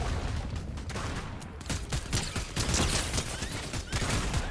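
Rapid pistol gunfire in a Fortnite squad match, shots cracking in quick irregular bursts throughout amid busy game noise, with no talk.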